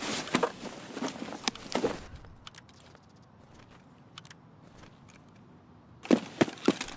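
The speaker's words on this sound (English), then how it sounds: "I heard footsteps." Footsteps in a first-person shooter game, a burst of quick, crunchy steps at the start, a quieter stretch with scattered faint ticks, then another cluster of close, sharp steps near the end.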